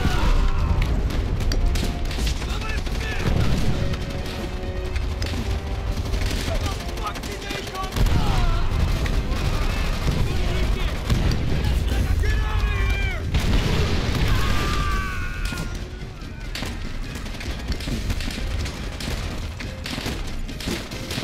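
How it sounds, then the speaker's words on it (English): Mortar shell explosions in the Call of Duty: World at War campaign, heavy booms and thuds over constant gunfire and machine-gun bursts, loud and dense throughout, with battle shouts mixed into the chaos. "Grab a mortar shell and throw it"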